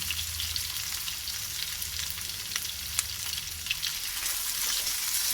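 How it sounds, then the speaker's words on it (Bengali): Chopped onions with a little salt frying in a pan for a fish-head mung dal, a steady close sizzle and crackle throughout with occasional stir clatter, no talking. "পেঁয়াজটাকে একটু ভালো করে ভেজে নেবো"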